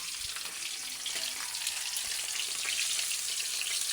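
Frogs deep frying in oil until crispy: a faint, continuous bubbling sizzle with fine crackles throughout, no voices.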